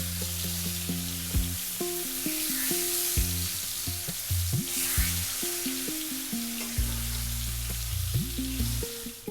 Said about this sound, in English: we're going to fry this fish just for like 3 minutes aside